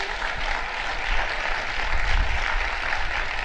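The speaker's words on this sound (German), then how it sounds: "Dafür nochmal ein herzliches Dankeschön und einen riesen Applaus." An audience applauds at the opening of the 11th Oldenburger Münsterland film festival, a dense, even wash of clapping that holds steady throughout.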